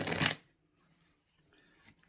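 A deck of ESP playing cards is riffle-shuffled in one loud, close burst at the start, followed by quieter handling and a second faint riffle near the end.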